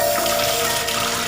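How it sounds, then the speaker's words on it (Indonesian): Steady, continuous hiss of water running from a tap, with no voices. "Itu suara keran toh?"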